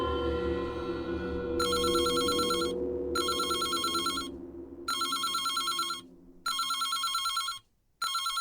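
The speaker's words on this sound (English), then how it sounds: "The phone again." Telephone ringing in the Reverse 1999 video game: repeated electronic trilling bursts separated by short pauses, entering over a fading low musical drone.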